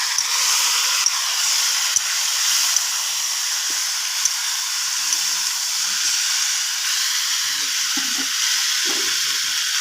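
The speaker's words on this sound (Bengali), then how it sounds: "মাংস কষাচ্ছি। এই যে লেগ পিস।" Pieces of meat leg being fried and stirred in a pan, a steady loud sizzle throughout with faint scraping and clinking from stirring underneath.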